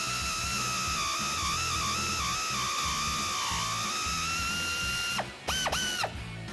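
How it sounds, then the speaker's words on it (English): An air ratchet drives a 15 mm deep socket on a Mustang sway bar end link nut, giving a loud, sustained whirring buzz with a steady whine that stutters and cuts out briefly near the end. "I have that 15 mil deep socket on my air ratchet"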